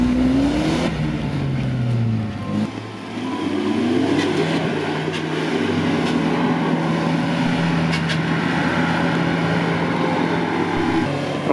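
A UAZ Patriot off-road vehicle strains its engine while climbing a steep rutted track between Kanzhol and Dzhily-Su, the revs rising and falling in a loud, continuous drone close by, with no speech.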